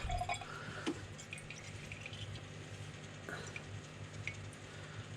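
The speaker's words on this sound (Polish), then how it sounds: "tak żeby ta woda się tu delikatnie kapała" Quiet, scattered water drips fall into an aquarium at irregular intervals over a low steady hum.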